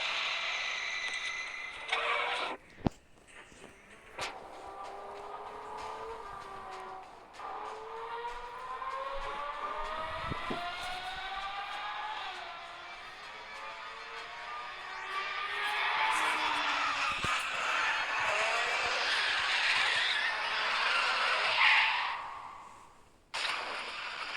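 A Ferrari's engine whines through rising sweeps, then a long, loud, rough roar builds like skidding tyres before cutting off abruptly near the end, close and dramatic.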